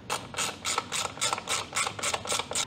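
A hand ratchet clicks in quick, even bursts while tightening the chain guard bolts on a 2024 Kawasaki Ninja ZX6R, about a dozen crisp, close strokes in steady rhythm.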